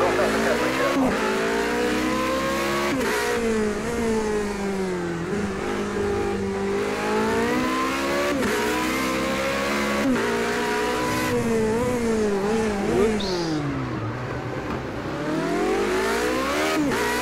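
Race car engine in the Project CARS 2 racing game on a career-mode outlap on cold tyres, droning continuously with repeated rises and dips in revs as gears change, loud and steady throughout.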